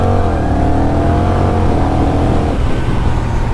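A 2021 Honda Rebel 1100 with a dual-clutch transmission rides along, its engine a loud, close, continuous throb with wind noise and a slight shift in tone partway through.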